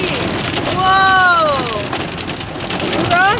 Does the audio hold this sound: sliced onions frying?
no